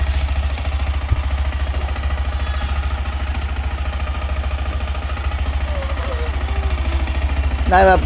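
An old motorcycle engine idles steadily after being started, a continuous close low putter with light clatter, and a voice comes in briefly near the end.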